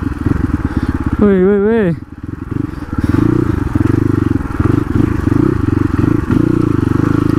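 Crossfire RM 250 dirt bike off-roading on rough trail, engine droning steadily and loud throughout with revving swells, a voice shouting over it briefly near the start.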